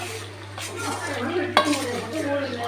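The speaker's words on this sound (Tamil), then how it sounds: "சேர்த்து எல்லாத்தையும் மிக்ஸ் பண்ணிக்கணும்" Chicken being mixed with dried red chillies and rock salt in a pan, with a scraping, rustling stir and a sharper clink of a utensil midway, over a steady low hum.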